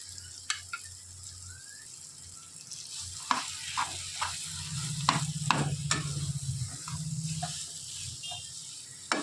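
Mashed jackfruit fries in hot oil with spices while a spoon stirs it, giving a steady sizzle broken by scraping, clattering strokes against the pan, with no voices.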